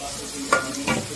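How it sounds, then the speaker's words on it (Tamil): Ground garlic paste fries in a pan for pickle. A steady, fairly loud sizzle carries two short stirring scrapes close by. "இந்த பச்சை வாசனை போகிறதுக்கு இதுவும் கொஞ்சம் நேரம் ஃப்ரை பண்ணணும்"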